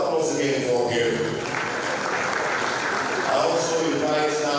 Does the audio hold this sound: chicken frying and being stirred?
no